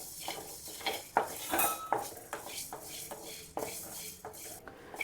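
Ingredients for obbattu saaru are stirred and dry-roasted in a pan, with a spoon scraping and clinking against the metal in a steady, close rhythm of repeated strokes and no talking.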